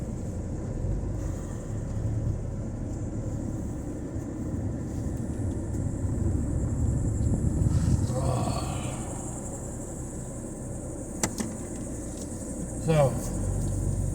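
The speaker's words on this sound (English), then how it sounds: "Drive down the road just a little bit." A car rolls down a road with a steady low engine rumble and road noise throughout, rising slightly midway, with a couple of brief clicks near the end and no talk over it.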